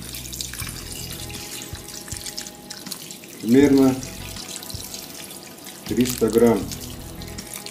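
Water runs from a tap into a cooking pot over meat for a chicken and mushroom roast, in two short bursts of a few seconds each, close and fairly loud, with a voice speaking between them.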